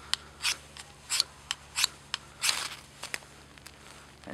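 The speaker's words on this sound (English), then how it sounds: "let's grab the fire steel and let's strike this stuff up" A fire steel is struck against a striker over fatwood shavings in a series of sharp, bright scraping rasps, about a dozen strokes at irregular intervals, close and fairly quiet.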